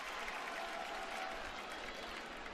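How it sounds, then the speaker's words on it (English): A crowd at a live wrestling show applauds and cheers steadily, a dense, continuous wash of clapping and voices heard from within the audience, fairly faint and without a break for the full short stretch. "Y'all gotta be cheering harder, but all right."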